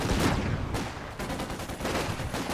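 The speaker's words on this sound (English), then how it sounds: "Contact! Small arms fire!" Small arms gunfire in a video game battle, dense crackling volleys that run nearly nonstop and loud for the whole stretch, with a brief lull in the middle.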